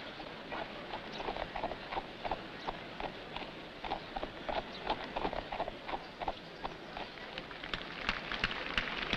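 Horses' hooves clop repeatedly at a horse show at Windsor, England, a steady irregular patter of many hoof strikes heard at a distance beneath a broad, noisy outdoor wash.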